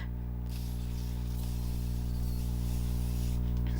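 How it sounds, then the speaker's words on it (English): Makeup setting spray sprayed onto a face gives a long, steady hiss that starts after a short pause and runs for about three seconds over a faint room hum. "We're gonna spray our face"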